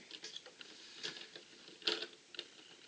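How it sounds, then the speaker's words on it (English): A small Lego stud shooter on a First Order Battle Pack build fires with a few faint, quick plastic clicks and snaps, quiet and close, scattered over a few seconds. "there is a little stud shooter on top. Let's fire that off"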